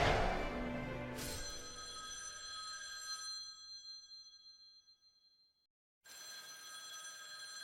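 An old-style telephone bell rings in Devil May Cry 3, a bright metallic ring that decays into silence and then sounds again after a pause, clear and close with no talk over it.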